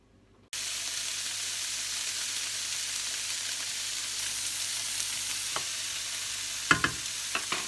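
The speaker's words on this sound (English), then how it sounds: "I'm just going to leave it until the vegetables are charred and al dente." Vegetables for veggie tacos fry and char in a hot pan, a steady close sizzle running throughout with a few sharper crackles and pops near the end.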